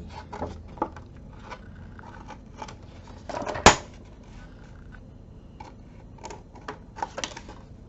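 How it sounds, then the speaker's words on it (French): Scissors snipping through paper along a drawn line while making a small surprise pouch, a quiet run of light clicks with one sharp, close cut near the middle. "Alors, on va couper ici,"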